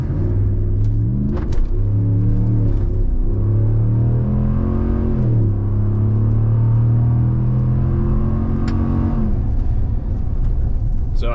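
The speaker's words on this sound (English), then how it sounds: "I'm just gonna flat foot it. And this is the V8 with the eTorque." A 2022 Ram Rebel G/T pickup with the eTorque V8 launches at full throttle, its engine note climbing loud and close through several rising gear pulls, with brief dips between shifts and steady road rumble underneath.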